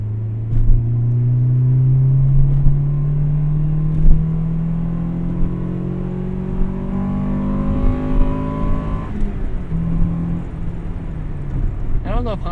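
1998 Acura Integra Type R engine revving up through the gears, rising in pitch and then falling back, loud and close with talking over it.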